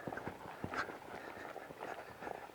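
Horse's hooves at a canter during a 20-to-10 pattern canter-depart training session, with a rhythmic run of soft clip-clop beats over steady background noise.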